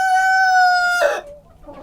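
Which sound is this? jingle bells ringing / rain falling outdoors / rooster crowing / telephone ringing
rooster crowing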